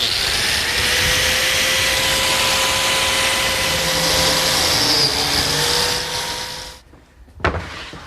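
A biscuit joiner whirs steadily at high speed, cutting slots into a pine face frame and panel, then winds down and stops, followed by a brief knock near the end.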